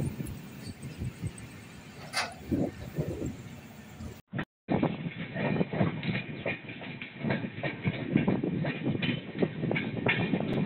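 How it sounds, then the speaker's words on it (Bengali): A moving train heading toward North Bengal after leaving Malda station, heard from an open doorway: a steady rumble with rhythmic wheel clatter on the rails and wind noise, broken by a brief cut partway through. "আমাদের ট্রেন মালদা রেলওয়ে স্টেশনের 3 নম্বর প্ল্যাটফর্ম ছেড়ে ধীরে ধীরে উত্তরবঙ্গের পথে ছুটে চলেছে।"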